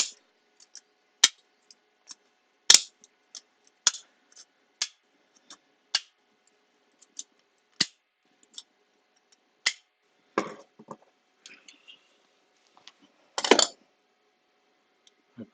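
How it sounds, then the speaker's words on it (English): Sharp, sparse clicks and snips from cutting along a seam of a rusty air intake grill on a BMW R1200GS, a dozen or so crisp ticks spread irregularly with a longer scraping snip near the end, close and quiet with no talk. "I just cut down the length of the seam"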